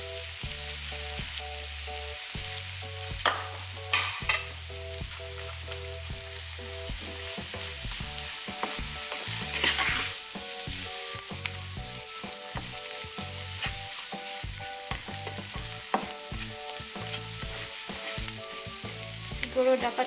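Bacon sizzles and fries in a pan for a Filipino bitter gourd omelette, a steady loud crackling hiss that runs throughout with a tonal background underneath.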